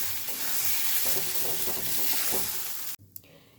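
Ground green pea paste frying in a pan for kochuri is stirred over medium heat, a close sizzle with scraping strokes for about three seconds before it abruptly stops.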